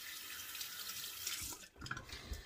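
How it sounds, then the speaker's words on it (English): Tap water running and splashing into a sink while shaving lather is being worked up, a steady faint rush with brief louder splashes near the end, no talking. "but Kaizen, you can't drown it. So it's not like you're going to hurt anything by adding water"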